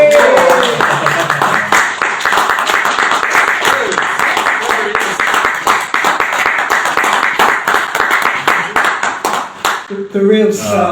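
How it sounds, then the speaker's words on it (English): A cinema audience claps loudly at a director Q&A, dense sharp hand claps building into a rousing, sustained round that ends abruptly near the close, where a voice briefly begins speaking. "So please, a rousing round of applause."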